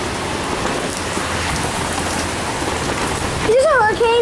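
Heavy hurricane rain pours down in a dense, steady roar, close and loud, with a voice breaking in near the end.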